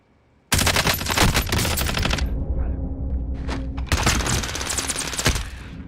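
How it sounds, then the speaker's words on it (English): Rapid automatic gunfire in a battle-royale style video game erupts suddenly after a quiet start, loud sustained bursts with a brief lull in the middle before firing resumes. "Where are those rounds coming from?"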